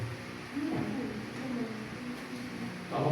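A pigeon or dove cooing nearby during an online meeting, soft low repeated coos over a faint background hum, no clear talk.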